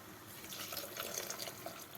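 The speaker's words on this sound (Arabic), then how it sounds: "راح نضيف له الماء السخون" Hot water pours into a pot of frying vegetables for red lentil soup, a steady soft rushing splash that lasts the full two seconds, faint and continuous with no voices.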